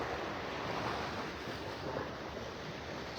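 Calm Gulf of Mexico waves wash onto Vanderbilt Beach in north Naples, Florida, at early morning: a continuous, even surf hiss blended with steady wind rush, with no voices.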